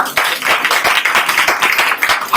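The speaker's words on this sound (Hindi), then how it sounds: "हालेलुया, ताली बजाइए प्रभु के लिए।" A church congregation clapping for the Lord in praise, a dense run of fast, overlapping hand claps that carries on steadily throughout.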